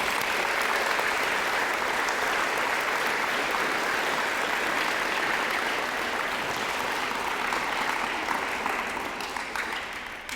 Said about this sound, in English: Let's give their parents a big round of applause.